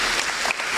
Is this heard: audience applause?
yes